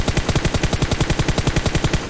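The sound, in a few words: gunfire in video game PUBG Mobile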